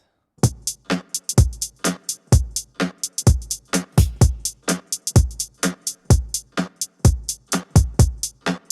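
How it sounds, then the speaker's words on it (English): Programmed house drum loop with steady hi-hats and a snare backbeat on 2 and 4 over a thumping kick, looping evenly for several bars, close and loud with no voices. "Then we add the snare. Snare's a standard backbeats on 2 and 4."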